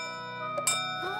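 Clock chiming in a children's cartoon set in a little kingdom, a single bell-like tone ringing out with sustained harmonics and a soft strike or two, heard alone against a quiet musical background.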